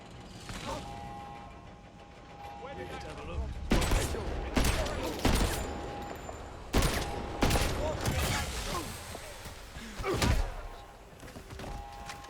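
Repeated missile dart shots fired in the James Bond 007 video game, sharp loud bursts spaced a second or two apart over a busy game soundtrack.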